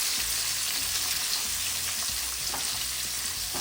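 Sliced onion and green chili sauté in a hot pan for a paneer jalfrezi, giving a steady bright sizzle with occasional soft stirring scrapes, close and continuous, with no speech.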